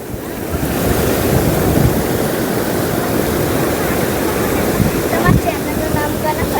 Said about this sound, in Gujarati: ઓખાનો દરિયો આ દરિયો જોઈને